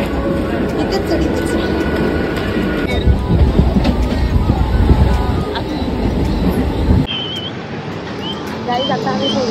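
A Mumbai local train runs toward Ulhasnagar, giving a steady rumble of wheels and carriage noise with a brief swell in the middle. People talk over it before it cuts to a quieter scene.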